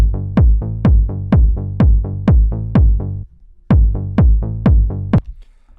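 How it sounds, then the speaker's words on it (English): A deep tech house electronic kick hits in a steady rhythm, each thump sliding into a booming bass tone, with a brief pause midway before the pattern resumes. "this is what the kick and bass sound like together"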